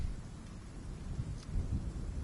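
Steady rain with low rumbling thunder in the video game Bloodborne, a soft continuous wash with deep rolling rumbles, fairly faint and alone.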